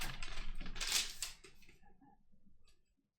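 Fast keystrokes clatter on a computer keyboard as quick notes are typed, a dense close burst of clicks that thins out and stops after a few seconds.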